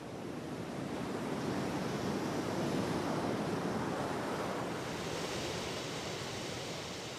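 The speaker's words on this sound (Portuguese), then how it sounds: "Nesse trecho do litoral, as ondas quebram mais distantes da praia em bancos de areia." Ocean waves break on offshore sandbars along a wild coastline, making a continuous, soft, distant wash of surf with faint wind and no voices.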